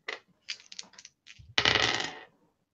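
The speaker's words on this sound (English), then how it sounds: "Roll 2 dice and add 5." Dice rolled in a tabletop wargame: a few short, light clicks, then a longer clattering rattle as they tumble across a hard surface, close up, with no talking.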